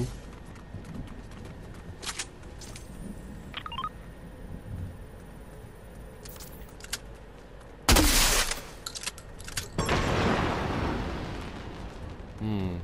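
Gunshots in the Fortnite video game come from an enemy player in a solo zero-build match, with sharp bursts scattered through the clip, loud cracks near the end, and someone speaking over them.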